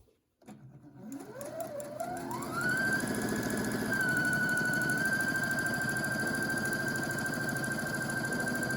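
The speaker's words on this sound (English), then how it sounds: "And then just run a machine stitch across that." A borrowed sewing machine stitching a folded hem on a linen-style shift, its motor revving up quickly and then holding a steady, fast, loud whir with continuous needle chatter.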